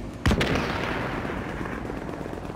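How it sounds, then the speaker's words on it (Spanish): Gunfire in Tom Clancy's The Division, a sharp loud burst of shots near the start followed by a long rumbling decay that fades slowly under a low ambient hum. "Se escuchan los disparos, ¿podría regresar?"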